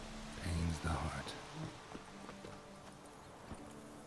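Hoofbeats from Roach, the horse in The Witcher 3, clip-clop in a quick rhythm, loudest early on and then easing off beneath game music and ambient sound.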